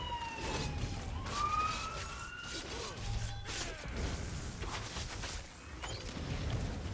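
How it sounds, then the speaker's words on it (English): An ambulance siren passes by outdoors, its wailing tones sweeping up and down at moderate distance over a busy background with clattering knocks. "Got an ambulance going by"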